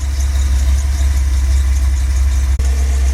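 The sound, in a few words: car engine idling with a used Edelbrock 650 carburetor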